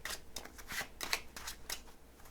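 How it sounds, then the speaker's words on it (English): Slippery tarot cards shuffled once by hand, a quick run of crisp riffling flicks and soft slaps, close and quiet with no talking. "I'm going to shuffle the cards only once because these cards are super slippery"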